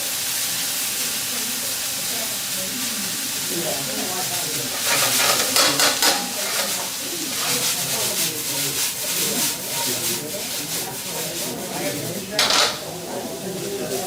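Tomato paste frying in a hot pan for a Cuban dish, giving a steady close sizzle with bursts of stirring and scraping as a spoon works the paste.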